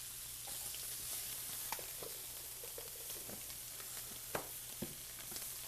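Fish pieces fry in a hot pan for spicy fish tacos, giving a steady loud sizzle with occasional pops and light stirring taps, and no voices.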